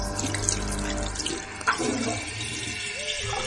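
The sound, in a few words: toilet flush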